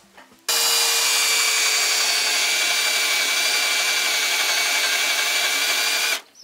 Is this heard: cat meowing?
no